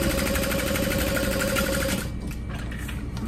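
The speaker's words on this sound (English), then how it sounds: "I like to just sew two parallel lines." Sewing machine stitching parallel lines on a crossbody bag, a fast, steady mechanical whir with a rapid stitching rhythm heard close up that stops about two seconds in, leaving quieter handling noise.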